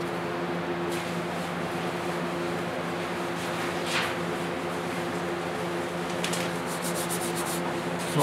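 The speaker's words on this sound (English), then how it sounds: "Just taking a little bit of 400 grit here, just roughing up some of the little areas that may have gotten more." Paint on a 1956 Mercury interior is hand-sanded with 400 grit sandpaper, giving soft, intermittent scratchy rubbing strokes over a steady mechanical hum, with no talking.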